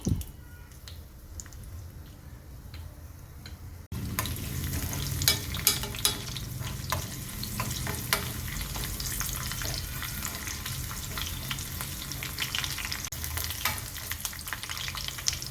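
A tempering of seeds, garlic and dried red chillies hits hot oil in a pan, starting with a quieter stretch before a loud, dense crackling sizzle and stirring take over close by for the rest.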